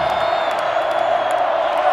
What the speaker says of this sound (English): Man, the crowd is loud.